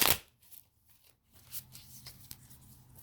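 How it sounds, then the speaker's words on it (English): A deck of tarot cards is shuffled by hand, an opening riffle burst followed by softer, scattered flicks and slides, close and quiet. "I'm going to give a couple more shuffles here"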